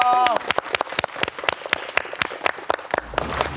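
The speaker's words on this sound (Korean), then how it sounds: "우리 이승준 교수님께 다시 한번 큰 박수 부탁드립니다" Applause for a professor after a lecture at a spring workshop on algal blooms, a scatter of distinct claps from a small audience with a voice briefly heard near the end.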